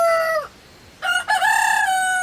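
A rooster crows in two clear bursts, a short call followed after a pause by a longer, strident cock-a-doodle-doo, loud and close with no talking.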